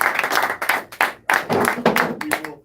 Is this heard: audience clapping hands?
yes